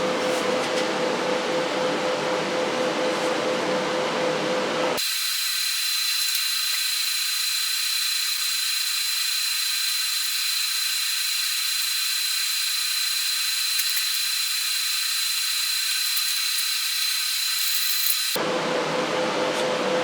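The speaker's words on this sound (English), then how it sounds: "Okay, I'm back to weld it up." Welding up holes on a caged nut assembly, heard as a steady, loud crackling hiss that holds continuously for about thirteen seconds before cutting off, with no talk.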